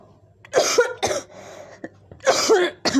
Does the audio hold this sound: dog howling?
no